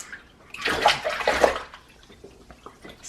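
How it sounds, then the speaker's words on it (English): A baby splashes in bath water, sloshing and slapping the surface in an uneven burst that fades into smaller drips and splashes nearby. "Splish splash, Jules is in the bath"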